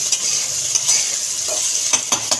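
Fresh chopped ridge gourd fries in hot oil in a pan, a bright steady sizzle with several sharp scraping stirs of a spatula toward the end, close and without speech.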